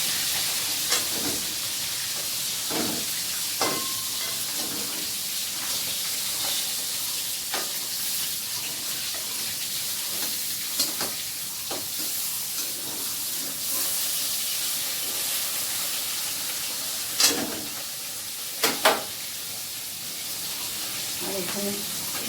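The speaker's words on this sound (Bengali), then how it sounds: "বসিয়ে দিলাম উচ্ছে বেগুন ভাজিটা আর মাছটা ভেজে দিলাম" Fish fries in a pan with a soft, continuous steamy hiss, moderately quiet, broken by a few faint clicks and knocks.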